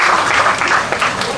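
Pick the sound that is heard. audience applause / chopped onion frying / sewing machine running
audience applause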